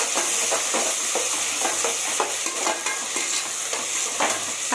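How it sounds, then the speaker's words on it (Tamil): Onion and green chilli are stirred in a frying pan, a spoon scraping the pan in a repeated rhythm over a continuous close sizzle, with no voices. "வெங்காயம், பச்சை மிளகா போட்டாச்சு. இப்போது இதை மிக்ஸ் பண்ணிக்கலாம்."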